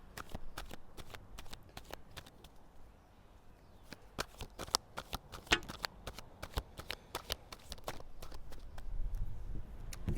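A deck of tarot cards is shuffled up close, a rapid run of sharp riffling snaps and slaps that bunch into bursts and then pause, fairly quiet in a still room.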